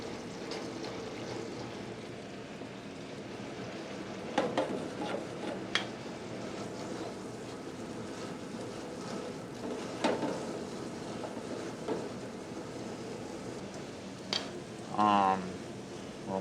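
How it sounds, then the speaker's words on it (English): Onions, shallots, crushed white peppercorns and bacon frying in butter give a steady low sizzle, with occasional clinks and stirring noises over it and a brief voice near the end. "Onions, shallots, and crushed white peppercorns are started in butter."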